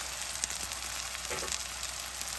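Masala of cumin powder, turmeric and Kashmiri red chili frying in oil for dhaba-style karahi bhindi, a faint continuous sizzle with a few soft stirring scrapes.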